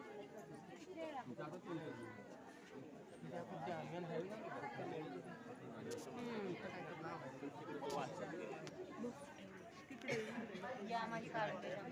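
Many people chatter at once in a crowd at Sambhaji Maharaj's samadhi in Tulapur, a steady, close murmur of overlapping voices with no single speaker standing out.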